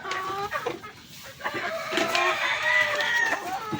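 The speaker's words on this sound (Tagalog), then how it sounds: "Papakain tayo ng manok." Chickens clucking and crowing nearby, several birds calling over each other in a busy, continuous farmyard chatter.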